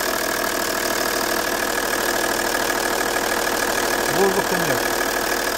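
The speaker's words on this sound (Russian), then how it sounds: "двигатель завел. Все нормально работает." The 2.5 TDI V6 diesel engine of an Audi A6 C5, just restarted after an in-tank fuel pump modification, idles with a close, even hum while someone speaks briefly over it.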